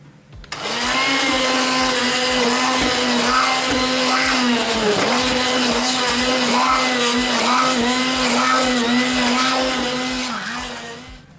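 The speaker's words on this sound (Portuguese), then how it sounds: "vamos agora passar e passar tudo muito bem para fazer um puré" A hand blender purées cooked carrots for carrot soup, running with a loud, steady motor whine and churning that dips briefly under load, close and continuous for about ten seconds.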